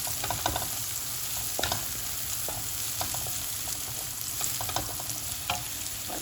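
Shrimp and noodles sautéing in a hot pan give off a steady, close sizzle, broken by scattered clicks and scrapes as the food is stirred and tossed, with no voices.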